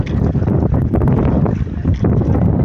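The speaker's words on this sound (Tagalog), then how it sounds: "Grabe ang lakas ng hangin idol oh" Strong wind blasts across the microphone on a small fishing boat at sea, a loud, continuous roar with gusty surges and no one speaking.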